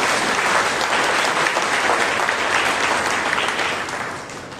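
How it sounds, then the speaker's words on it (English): A church congregation at a Monday prayer meeting claps loudly for Jesus, dense sustained applause from a large crowd that holds steady and then fades slightly toward the end. "Let's give mighty clap to Jesus."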